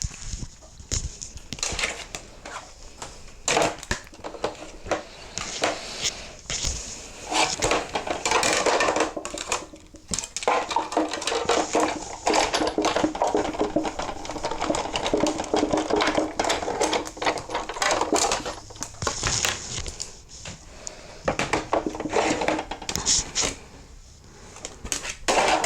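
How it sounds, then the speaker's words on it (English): An embossing machine presses paper through a swirls-and-curls embossing folder, producing a long, steady stretch of close grinding, clicking and rolling mechanical noise. "we're going to emboss this"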